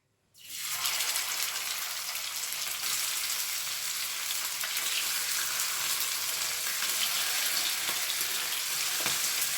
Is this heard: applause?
no